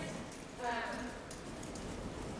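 Hooves clip-clop at a steady trot, fairly close, while a person talks over the rhythmic footfalls.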